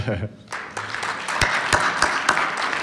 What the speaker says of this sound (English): Why don't you go ahead and give yourselves a big round of applause.